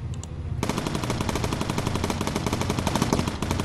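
Rapid bursts of machine gun fire ring out in the bomber aircraft video game Bomber Crew, a loud, continuous rattle of closely spaced shots lasting a few seconds.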